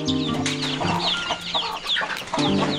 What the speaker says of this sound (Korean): 새끼 병아리 아니에요?